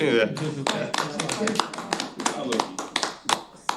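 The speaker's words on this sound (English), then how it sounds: "Clap, will it scare Loki?" Audience applause at a public board meeting, with a steady run of hand claps from a room of people, fairly close and continuous for a few seconds.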